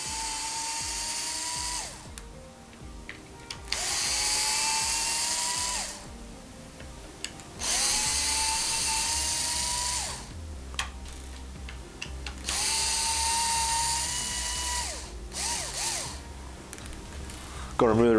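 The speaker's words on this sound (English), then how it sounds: "Now we'll go to remove the four screws that hold the receiver box cover on." A power drill or driver whines in four separate bursts of a few seconds each while screws come out of the receiver box cover on an Arrma 6S RC vehicle, with pauses and a voice between bursts.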